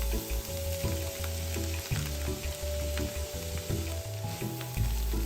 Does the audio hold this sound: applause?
no